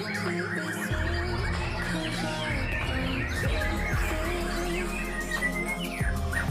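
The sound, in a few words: white-rumped shama (murai batu) singing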